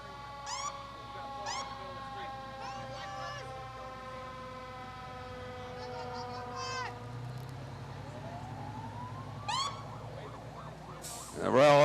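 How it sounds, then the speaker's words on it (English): Several fire truck sirens wail at once during a Memorial Day parade, with sweeping rising and falling tones punctuated by horn-like blasts, fairly distant, ending with a louder burst of noise. "The sirens of our Royal Oak Fire Department."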